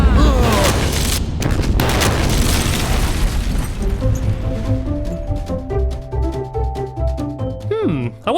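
A rocket lifting off in the Minecraft video game: a loud, sustained booming roar opens and slowly fades, while tonal game music and sound effects rise over it toward the end, with voices talking.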